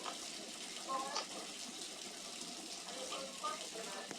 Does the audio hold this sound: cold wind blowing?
no